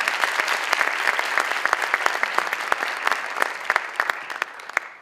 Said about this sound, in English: So everybody give yourselves a round of applause for being here tonight.